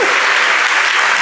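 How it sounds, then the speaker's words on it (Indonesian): Applause from a church congregation for the preacher, a dense wash of many hands clapping close and steady, with no gaps across the short burst. "Tepuk tangan buat Pak Ustadz."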